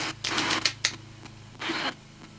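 A deck of playing cards is shuffled by hand in quick riffling bursts with papery clicks and snaps, a short flurry followed by a second riffle, close by.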